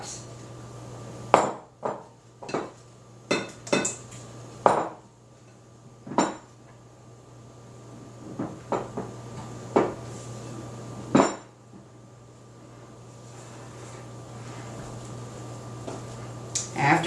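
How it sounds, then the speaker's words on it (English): A spoon clinks and scrapes against a bowl while flour is stirred into cranberries for a cranberry pudding, irregular sharp taps and knocks close by over a steady low hum. "We can stir that into our cranberries, and we will add our flour that I've pre-measured."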